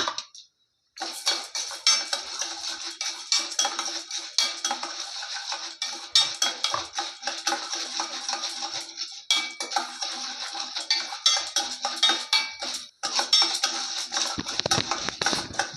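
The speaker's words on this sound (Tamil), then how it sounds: "இப்போது இதில் ஒரு கை கடலைப்பருப்பு, ஒரு கை உளுத்தம்பருப்பு போட்டு நல்லா வறுத்து விட்டுலாங்க." Chana dal and urad dal roasting in a pan for peerkangai (ridge gourd) poriyal, heard as steady close scraping and clinking of a spatula against the pan, with rustling lentils, pausing briefly near the start and again late on.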